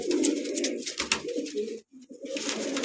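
Pigeons coo in a steady, close chorus of low throaty calls among a flock of fifteen to twenty birds kept for sale, with a brief lull near the end before the cooing resumes.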